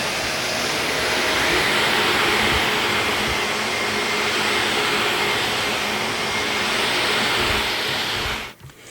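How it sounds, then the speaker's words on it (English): A Shark Navigator vacuum cleaner runs over a rug, picking up dog hair shed by two Jack Russell mixes. Its steady, loud motor roar holds for most of the stretch, then cuts off abruptly near the end. "I vacuumed the entire rug."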